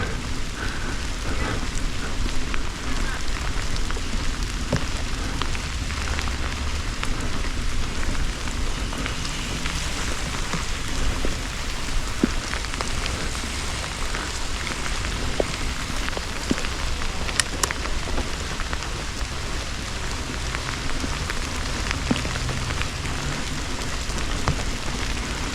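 Steady rain pours down during a rainy-day electric unicycle ride, a dense constant patter and hiss on surfaces, loud and unbroken throughout with no talk.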